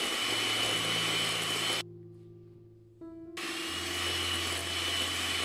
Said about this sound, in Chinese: 中速打发出纹路之后改成低速